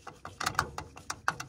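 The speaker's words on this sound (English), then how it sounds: "So I'll put the plate screw in first." A plate screw is being driven into the return manifold of a Worcester Bosch boiler, giving quiet, close ratcheting clicks in an irregular quick series.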